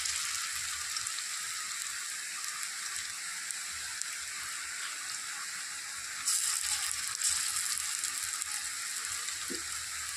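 Banana flower fritters fry in hot oil with a continuous dense sizzle that swells louder partway through, a steady close crackle with no voices.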